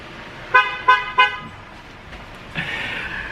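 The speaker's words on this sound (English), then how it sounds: "Can always hear his car." A car arriving home gives three short, bright horn toots in quick succession, followed by a softer sustained rush of engine or tyre noise at moderate distance.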